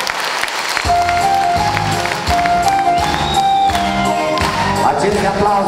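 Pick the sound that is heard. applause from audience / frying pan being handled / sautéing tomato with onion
applause from audience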